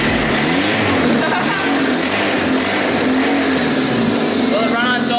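A long-neglected, hard-to-kill car engine firing flames and smelling of gas runs on its own, revving loudly and steadily throughout amid excited voices talking over it.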